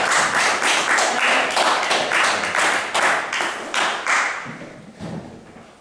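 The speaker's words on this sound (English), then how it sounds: "everyone will give you a round of applause" A hypnosis show audience gives a round of applause, dense broadband clapping that stays steady and fairly loud before thinning slightly toward the end, with no talk over it.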